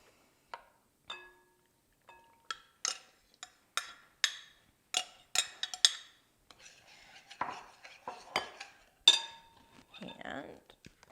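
A utensil mixes sugar, salt, melted butter, vanilla and flour in a bowl for caramel apple pie bars, producing a run of sharp clinks and scrapes that speed up and grow busier, close and fairly quiet.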